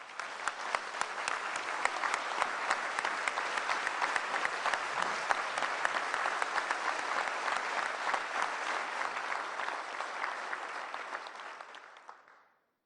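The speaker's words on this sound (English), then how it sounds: "Please give Lauren a round of applause for her hard work and her commitment." Sustained audience applause at a state budget address, a dense, even roar of clapping lasting about twelve seconds before tapering off quickly.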